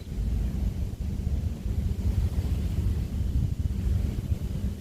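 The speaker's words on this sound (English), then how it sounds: "It's really windy." Strong wind buffets the microphone at a tree-lined seaside nature reserve park, a loud low rumbling roar with gusty surges that persists throughout without speech.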